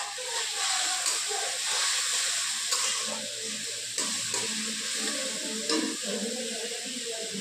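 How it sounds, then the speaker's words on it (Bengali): Potatoes sizzle and hiss loudly in a wok as they are stirred, with occasional scraping clicks in the pan throughout. "এবার আমি একটু আলুটাকে নাড়বো।"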